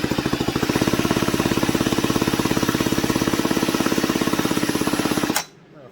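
A power drill whirs steadily with a rapid pulsing rattle as it spins over a non-starting Stihl 026 chainsaw engine, loud and continuous, then cuts off abruptly near the end.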